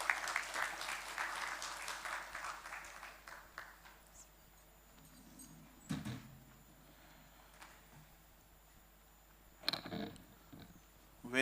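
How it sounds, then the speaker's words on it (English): Applause in an Indian university hall as a speaker is welcomed: a few seconds of clapping from a crowd that fades out, followed by quiet room tone with occasional thumps and handling knocks. "Please welcome Dr. Jant Kumar with a huge round of applause"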